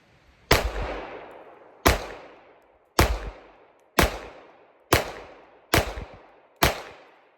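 Seven sharp gunshots from a Walther PDP Pro SD pistol, fired singly at an uneven pace about a second apart, each a loud crack with a short ringing decay outdoors.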